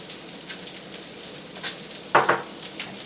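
Rainbow trout frying in butter with garlic in a pan, a soft steady sizzle with a few louder crackling spits, close and without talk.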